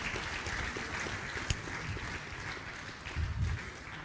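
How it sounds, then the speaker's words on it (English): Applause from the audience at an event honouring a professor, a quiet, diffuse patter of clapping heard from a distance, with a slightly louder flurry near the end. "Please give him another round of applause."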